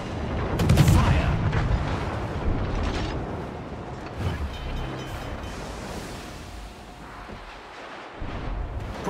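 A Tier 10 HMS Daring destroyer fires its naval guns in World of Warships. A heavy, booming salvo opens the passage and rolls into a long rumble over ocean wash, with in-game voice lines faintly under it.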